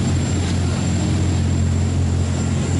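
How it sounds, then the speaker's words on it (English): Twin engines of an Azimut 55 motor yacht running at speed, around 18 knots along a coastline, a steady loud low droning hum with constant wind and hull noise throughout, no voices. "Now we've got both engines running how they should be."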